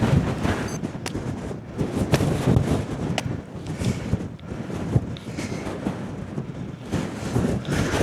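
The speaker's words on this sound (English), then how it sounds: "Wind's really picked up here now." Strong wind buffets the microphone on an exposed ridge during an early morning electric mountain bike ride, a loud, steady roar with gusty surges and sharp rattling knocks throughout.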